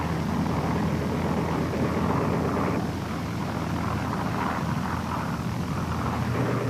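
World War II aircraft attack a fleet during the Battle of Leyte Gulf. A dense, continuous roar of engines and rumbling fire fills the whole stretch at a steady, loud level.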